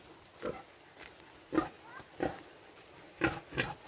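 A lone pig grunts on a farm, short snorting grunts repeated about six times at irregular intervals, close by against a steady background hiss.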